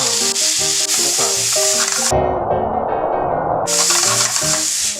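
Onion, garlic, green onion and ginger stir-fried in a pan for pork jjapaguri, a loud close sizzle with rhythmic scraping and stirring strokes, briefly interrupted by a softer bubbling stretch before the sizzle returns, with no talking.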